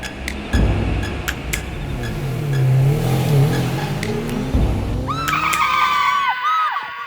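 A doctor's car comes along a road and passes close by, its engine swelling loudly with a brief tyre squeal and a thump before sharp chirping noises take over near the end.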